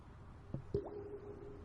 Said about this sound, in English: Drip again.